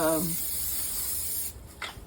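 A brief voice at the start, then a continuous close aerosol hiss of cooking oil sprayed onto a griddle for over a second, followed by a short second burst.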